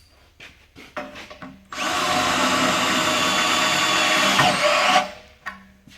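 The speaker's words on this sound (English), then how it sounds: "When the screw is almost all the way in, the driver will automatically release." A power drill drives a tek screw held in an AutoLock screw-holding driver, with a loud, steady whir lasting about three seconds, preceded and followed by brief handling clicks.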